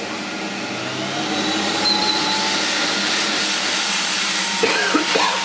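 A Hoover Galaxy vacuum cleaner's motor runs on its low setting, a steady droning whir with a faint rising whine, close and continuous, with a couple of light knocks near the end.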